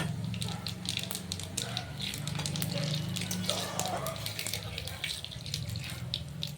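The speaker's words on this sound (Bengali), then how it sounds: "তেল গরম হয়ে গেছে তেজপাতা ফোড়ন দিয়েছি দিয়ে দিলাম গোটা শুকনো লঙ্কা আর দিয়ে দেবো হচ্ছে কটা মৌরি ফোড়ন" Bay leaf, whole dried red chillies and fennel seeds temper in hot oil, making a steady close sizzling crackle with spitting pops throughout, and a low hum underneath.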